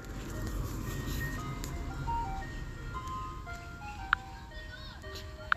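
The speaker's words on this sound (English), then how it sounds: "damn ice cream truck trying to get that last little money" Ice cream truck jingle playing outdoors at a distance, a faint, tinkling melody of single notes over steady low traffic and street rumble.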